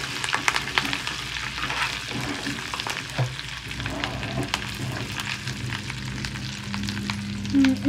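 Curry leaves crackle and sizzle in hot oil for a fish curry, a steady close fry with sharp pops and stirring scrapes running throughout.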